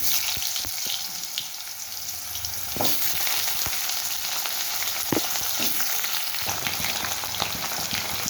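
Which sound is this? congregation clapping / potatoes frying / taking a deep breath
potatoes frying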